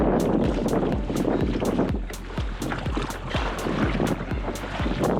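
Wind roars and buffets the microphone along a swampy Everglades coast while a boat is paddled, with rhythmic paddle strokes and water splashes recurring roughly twice a second, loud and close, without speech.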